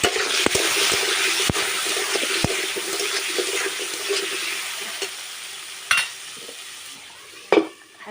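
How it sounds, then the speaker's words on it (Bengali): Potato pieces frying in hot oil in a pan, with salt and turmeric added, giving a steady, close sizzle that fades slightly over time. A few sharp knocks of a utensil sound near the end. No one speaks. "তেল দিয়ে আলুগুলো ভেজে নেব।"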